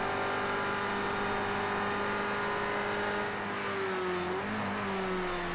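A race car engine in Project Cars 2 drones steadily at full throttle, its pitch holding high, then dipping briefly as if through a shift before climbing again, loud and continuous with no talk.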